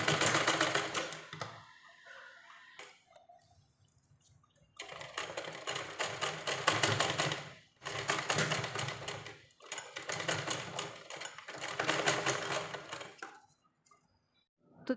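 Sewing machine stitching a small dhoti dress for a Kanha doll, running in several bursts of rapid, steady whirring stitches with short quiet pauses between them, close and fairly loud with no talk.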